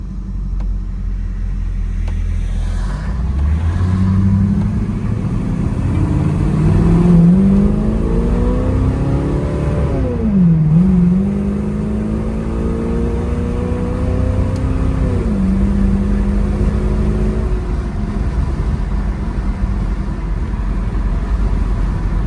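A 1969 Chevrolet Camaro RS SS 396 V8 accelerates hard, its engine note climbing through the revs and dropping at each gear shift. The engine is loud and close, with steady rumble and no talk.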